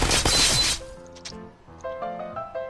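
Glass shattering in the video game Happy Wheels: a loud, bright, noisy crash for most of a second, then it drops away to quieter tonal game sounds and music.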